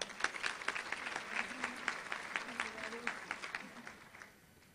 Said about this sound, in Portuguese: Vamos recebê-la com palmas?